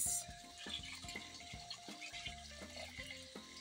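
Water is poured into a pot of cooked palm oil stew before the rice goes in. The pouring gurgles faintly and unevenly in a quiet kitchen.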